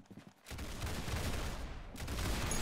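Gunfire in the Roblox shooter Arsenal during a competitive match, a sustained loud burst of rapid shots after a brief quiet start, with no talking.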